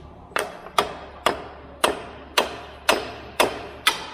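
Eight sharp, ringing hammer blows strike metal at a steady, even pace, hammering a wheel bearing out of an Audi TT 8J front suspension, each hit close and loud with a short metallic decay.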